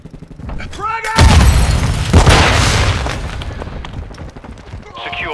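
A frag grenade detonates in Call of Duty Modern Warfare 2: a loud, deep boom lands after a brief shouted voice, its rumbling debris tail fading over several seconds as more voices call out.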